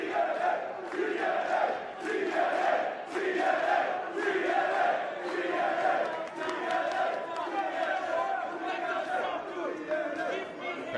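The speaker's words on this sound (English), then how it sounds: "Crowd remembering their Impact Wrestling moments with James Storm" Wrestling crowd at an Impact Wrestling mixed tag match chanting and cheering steadily throughout, a dense, loud arena roar with rhythmic chant-like swells and no clear individual speech.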